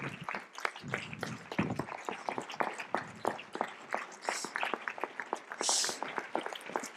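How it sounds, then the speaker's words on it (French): Audience applause at a public debate event, a dense, sustained patter of many hands clapping throughout, moderately loud and steady with no speech over it. "Et je voudrais qu'on leur donne un grand applaudissement."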